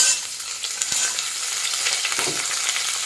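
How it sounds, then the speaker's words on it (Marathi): Cauliflower and carrot fry in a hot pan, with a bright, steady sizzle broken by light stirring scrapes from a spoon. No voices are present. "आता आपण इथे 1 कप फ्लॉवर घेतलाय, अर्ध गाजर घेतलेलं आहे, ते यात परतून घेऊया"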